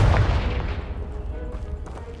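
Confringo blasting spell detonating against a pile of debris blocking a stairwell in Hogwarts Legacy, a loud boom with a heavy low rumble that fades into a long, decaying tail.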